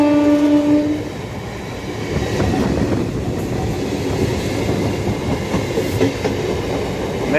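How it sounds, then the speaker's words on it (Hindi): A train arrives with a long horn blast at the start, then a loud, close rumble and rhythmic clatter of rolling cars that continues steadily to the end. "या आ गई अपनी रेल, इसमें चल लेंगे।"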